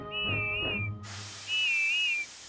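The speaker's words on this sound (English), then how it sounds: "she heard Whiff's funny whistle" Whiff, the Thomas & Friends toy engine, gives two warbling, high whistles, the first over a soft harmonic hum and the second alone against a steady hiss.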